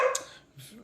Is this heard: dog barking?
yes